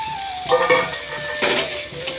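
Chopped tomato going into a pan of semolina upma with vegetables and being stirred, with a steady sizzle and scraping stir strokes close by, loud and continuous over a couple of seconds, no talking.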